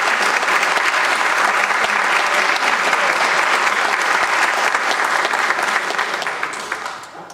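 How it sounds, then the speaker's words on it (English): A full room gives a sustained round of applause at a city council meeting, honouring a retiring staff member's 20-year career; the dense, steady clapping holds loud throughout and tapers off in the final second. "We're going to need one more round of applause because Linda deserves it."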